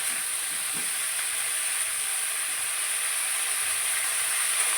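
Winter mixed vegetables with spring onion greens fry in a pan over a high gas flame, giving a steady, even hiss and sizzle that runs unbroken throughout without any voices.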